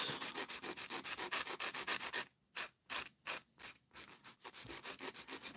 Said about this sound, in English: I'm using an 80 grit file.